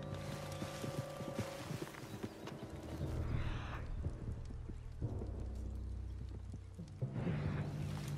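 Horse hooves clip-clop and a horse whinnies in Red Dead Redemption 2, with game music and a rumbling, stormy ambience underneath; the hoofbeats are moderately close and steady.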